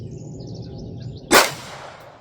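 A single sharp shot from a Kel-Tec pistol at an outdoor range rings off a steel plate, a loud crack with a short metallic ring fading, preceded by soft ambient noise and faint bird chirps.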